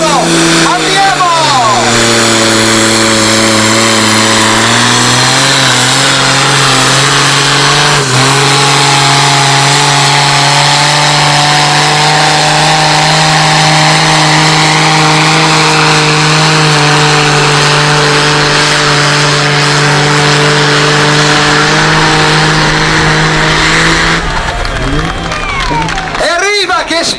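Competition tractor at an Italian tractor pulling championship in Chiarano roars loud and close, the engine climbing in pitch and holding a sustained howl for the whole run before cutting off near the end, with crowd noise and an announcer beneath.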